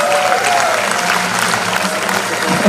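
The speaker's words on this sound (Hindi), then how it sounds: "एक बार जोरदार ताली से स्वागत कीजिए श्री ब्रजेश" Strong, steady applause from an audience welcoming a speaker at a coaching class owners' association event, dense continuous clapping for a few seconds with faint voices underneath.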